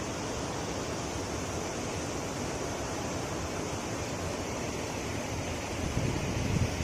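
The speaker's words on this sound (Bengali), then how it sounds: "এই পাহাড়ে ঝর্ণা জল পড়ছে।" A mountain waterfall on the snowy Tapovan trek in Uttarakhand gives a constant, dense rushing roar that stays even throughout, with no talking.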